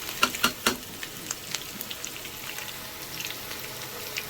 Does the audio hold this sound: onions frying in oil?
yes